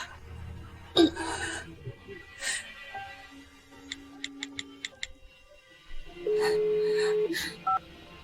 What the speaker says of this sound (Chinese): 妈妈帮你，妈妈给云州打电话